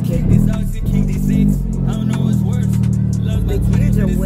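A lowered stance car pulls away in first gear, the engine note rising and falling close by under a person talking inside the cabin.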